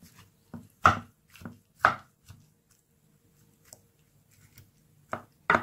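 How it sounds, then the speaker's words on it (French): A knife cutting through a potato and chicken dish with red pepper and melted cheese, giving several sharp, separate chopping strikes against a board with quiet pauses between them, close and clear with no talk. "je vais couper pour vous montrer"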